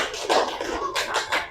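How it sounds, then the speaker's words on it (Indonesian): A classroom group claps for a student team in a brief, close burst of clapping with an uneven patter of hands. "silakan tepuk tangan untuk kelompok Insinyur Soekarno"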